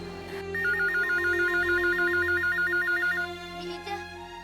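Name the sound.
telephone ringing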